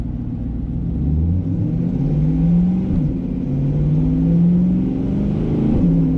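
A Chevrolet C8 Corvette fitted with a Borla ATAK exhaust accelerates hard, its deep, rumbling exhaust note rising and swelling steadily in loudness throughout, close and continuous, with no voices over it.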